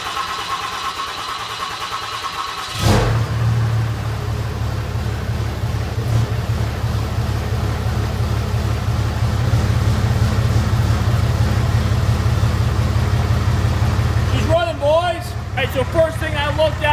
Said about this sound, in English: We're going to go ahead and fire up the Mega-cab for the first time.